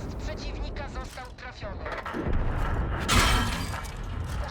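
World of Tanks match with shells striking a tank turret, harsh metallic impacts and bursts of crackling noise building toward a loud clang, mixed with game rumble while someone talks over it.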